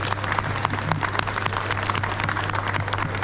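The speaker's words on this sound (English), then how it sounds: "So big thank you, big round of applause to them." An audience at a Farming Simulator 22 community meet stage event claps and applauds steadily throughout, a dense, continuous round of applause with no voices.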